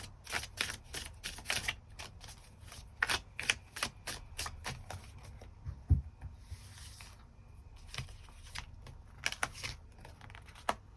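Tarot cards being shuffled and drawn, a quick run of crisp papery flicks and taps up close, soft and rhythmic with short gaps, no talking.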